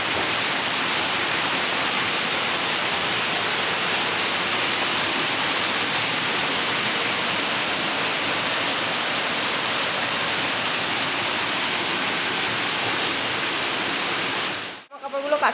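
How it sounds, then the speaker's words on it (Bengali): Heavy rain pours down in a steady, loud, dense hiss that hardly varies for over fifteen seconds before cutting off abruptly at the end. "জোর বৃষ্টি পড়ছে।"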